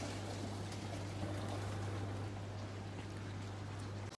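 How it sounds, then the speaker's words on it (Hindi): Water from boiled biryani rice pours out in a steady rushing stream, continuous and fairly close, then stops abruptly at the end. "इसको अब हम ड्रेन कर लेंगे।"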